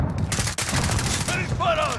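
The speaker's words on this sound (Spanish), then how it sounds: "¡Me disparan!" Gunfire in a Call of Duty Warzone match: a dense burst of rapid shots with a brief gap midway, close and loud, with excited talk over the fire.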